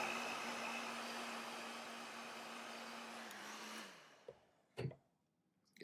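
A heat gun blasts steadily while warming a dbrand skin around a phone's camera lens, a loud continuous whooshing roar that cuts off near the end, followed by a few faint handling clicks and taps.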